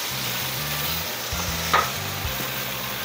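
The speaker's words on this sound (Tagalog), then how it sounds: "Stir fry." Ingredients for ginataang laing stir-fried in a pan with pepper and salt: a steady low sizzle with soft stirring scrapes, continuous and fairly quiet, no voices.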